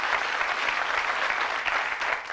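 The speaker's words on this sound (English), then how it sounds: "Give them a nice round of applause as they go off" A 1982 Bullseye game-show studio audience claps for departing contestants, a dense, steady, close round of applause lasting the whole moment without speech over it.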